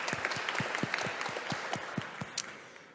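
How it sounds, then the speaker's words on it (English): Conference audience applause welcomes a stem cell aging researcher to the stage at a scientific meeting, a modest patter of claps with some distinct individual hand strikes, fading toward the end. "Let's give him a round of applause"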